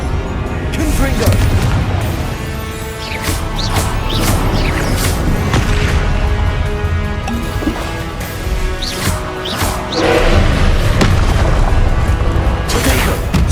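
Confringo blasting-spell explosions from Hogwarts Legacy go off as loud, dense booms and crashes that continue throughout, with a voice talking over the blasts.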